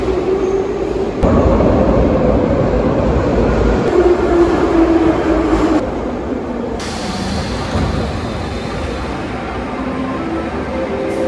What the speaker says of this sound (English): you see they have the Soviet trains here